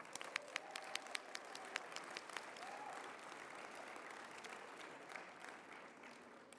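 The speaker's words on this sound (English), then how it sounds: "let's give them one more round of applause" An audience at a conference farewell reception applauding steadily, a dense patter of many hands clapping that gradually thins out.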